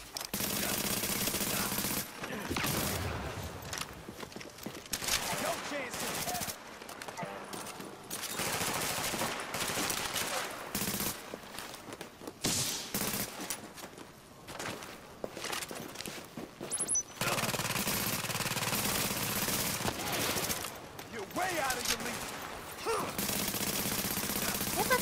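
Sustained gunfire in Tom Clancy's The Division during a rooftop firefight, with heavy automatic bursts and overlapping shots that carry on almost without a break, plus occasional footsteps and faint voices underneath.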